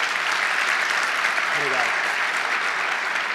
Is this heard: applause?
yes